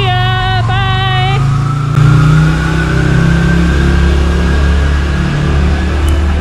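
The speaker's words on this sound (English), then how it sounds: "And there he goes, away on his motorcycle, off to some other adventure." A motorcycle engine revs up loudly close by and then holds a rising, droning note as it rides off, with a short tonal beep at the very start.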